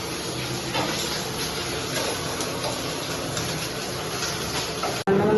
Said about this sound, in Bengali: তোমার দাদা ভেজে দিচ্ছে মাছ, মরা মাছ এনেছে